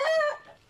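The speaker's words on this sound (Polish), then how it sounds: "Ładna, ładny kogutek." A rooster lets out one short, loud, close call with a strained, rising-then-falling tone that quickly trails off into quiet.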